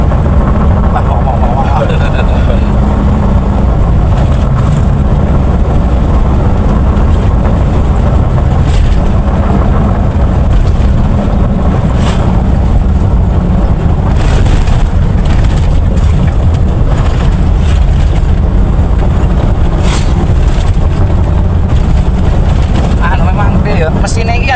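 A carbureted Daihatsu Feroza engine runs steadily while driving, a continuous low rumble with road and wind noise throughout, as people talk inside the cabin.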